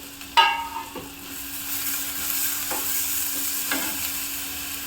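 Tomatoes sizzle in a pan while a utensil stirs and clinks against it a few times; a steady frying hiss continues underneath.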